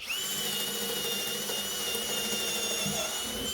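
A Ryobi HP compact drill driver runs steadily at its low speed setting into a scrap piece of wood, giving a continuous, close whine with a high ratcheting buzz that holds even throughout.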